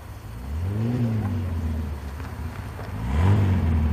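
A classic Lancia Fulvia driving past at a rally in France, its engine note rising and falling as it approaches and passes, then another engine swelling near the end, fairly close.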